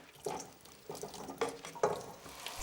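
Carrots and chopped onion are stirred through oil in a pot, a handful of quiet scraping, sloshing strokes spaced about half a second apart with soft sizzling between them.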